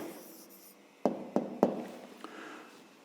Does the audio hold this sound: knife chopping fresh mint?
no